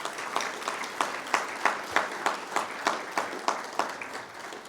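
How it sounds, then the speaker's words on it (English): Audience at a Veterans Day ceremony applauding service organizations, clapping in a strong, even, rhythmic unison, roughly three claps a second, sustained and fairly close, with no talk over it. "A big round of applause to all of our service organizations"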